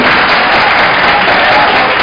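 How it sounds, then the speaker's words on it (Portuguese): A church congregation applauds in dense, loud, continuous clapping that fills the whole moment without letup. "Pode aplaudir Jesus por isso?"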